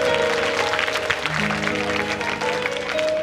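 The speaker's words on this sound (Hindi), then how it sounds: "एक बार ताली बजा दें पापा के लिए।" Audience applause at a devotional Hindu jagran, steady dense clapping from a crowd mixed with sustained harmonium-like tones from the stage, continuous throughout.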